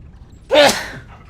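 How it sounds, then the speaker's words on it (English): A single close sneeze breaks out of near silence, a short sharp burst with a quick rising intake and a brief trailing release. "that was a sneeze"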